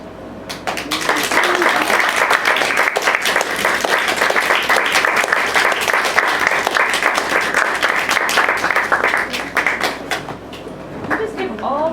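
A crowd at a poetry reading gives the poets sustained applause, loud and close for about ten seconds. Voices sound at the start and end, and a few louder individual claps stand out.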